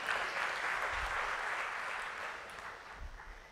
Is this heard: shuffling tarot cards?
no